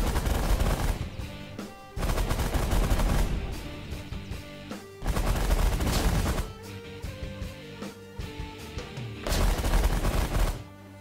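Rapid bursts of machine-gun-style fire from The Last Federation space strategy game during a focus-fire attack on an emergency response hangar, loud, dense volleys with short pauses between them and no talk over it.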